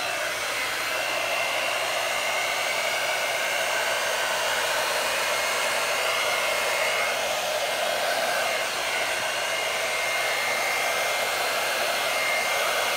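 Hair dryer blowing continuously, a loud steady airy whoosh that runs unbroken throughout, used to drizzle a bloom pour of paint on a 16-inch round wooden medium.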